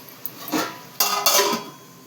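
A metal cooking pot is set down and handled in a kitchen, giving a few separate clanks and scrapes. The sharpest knock comes near the middle, and no one speaks.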